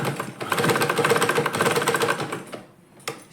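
A sewing machine stitches a salwar top with a fast, even mechanical clatter that runs for about two and a half seconds, then stops, followed by a single short burst, close and clear with no speech.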